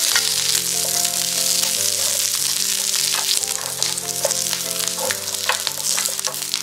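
Shishito peppers sizzling in sesame oil in a pan over medium heat, a steady crackling fry throughout, with soft background music underneath.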